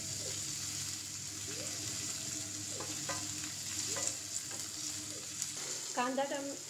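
Onion and tomato fry in a pan for bottle gourd and chana dal bhaji, with a faint steady sizzle under a low hum, a few soft scraping stirs and a brief clatter near the end.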